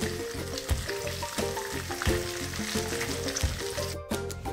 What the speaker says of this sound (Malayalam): എന്നിട്ട് ബാക്കിയുള്ളതും കൂടി നമുക്ക് വറുത്തെടുക്കാം